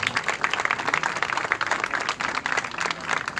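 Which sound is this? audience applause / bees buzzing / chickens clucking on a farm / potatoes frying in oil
audience applause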